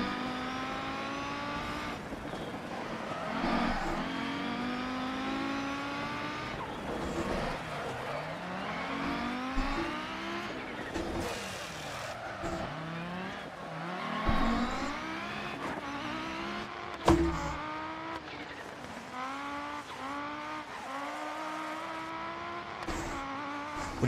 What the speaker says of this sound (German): In der Außenansicht hört man sehr gut, wie gut der Sound vom Audi nachgemacht wurde.